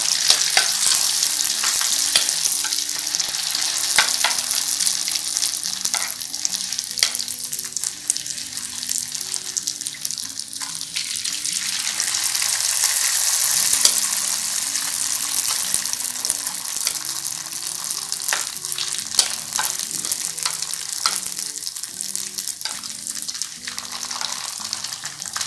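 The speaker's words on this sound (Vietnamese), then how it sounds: "Chiên cho nó giòn như thế này là được rồi nha các bạn." Rice paper fries in a pan of boiling hot oil for crispy street-food egg snacks, a loud, continuous crackling sizzle with popping bursts and occasional stirring, lasting throughout with no talk.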